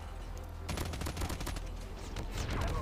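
Rapid automatic gunfire in the mobile game Call of Duty Mobile, dense bursts of close shots crackling almost continuously, with brief lulls between volleys.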